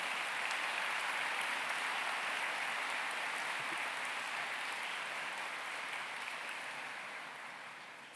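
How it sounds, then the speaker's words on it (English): Audience at a university graduation ceremony applauding with sustained, dense clapping throughout, slowly fading toward the end, heard from within a large hall. "Let us give them an astounding round of applause"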